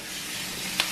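Mushrooms frying in a pan, a continuous close hiss of sizzling oil with a small brief spatter near the end.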